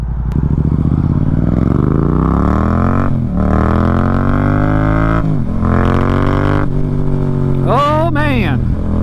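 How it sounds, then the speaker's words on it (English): Yamaha MT-07 motorcycle, a 2024 model, riding with its exhaust note climbing through the gears in long rising pulls, loud and close, with brief gaps at shifts and a sharp rev flare near the end. "I can get used to that exhaust note."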